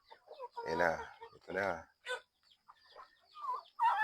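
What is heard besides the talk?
small chickens clucking on backyard farm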